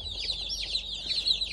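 Around a hundred broiler chicks peep continuously in a dense, high-pitched chorus of overlapping chirps, close and steady, with no voices.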